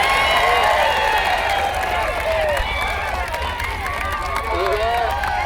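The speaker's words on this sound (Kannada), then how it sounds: "ಒಂದು ಜೋರ ಚಪ್ಪಾಳೆ." A large crowd at an outdoor farmers' protest gathering bursts into loud, sustained applause and cheering, with raised voices and whistles mixed into the dense clapping.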